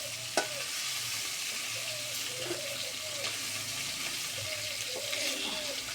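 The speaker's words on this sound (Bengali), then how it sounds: "এখন চিংড়ি মাছ ভেজে নিলাম" Prawns fry in a pan with a soft, continuous sizzle and spatter, joined by occasional light clinks of a utensil and a faint background hum, fairly quiet throughout.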